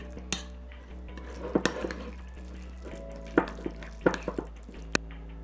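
A spoon stirs a melted mixture for keto pizza in a bowl, giving soft scraping sounds and several sharp clinks against the bowl. The sounds come close and intermittent over a faint steady hum.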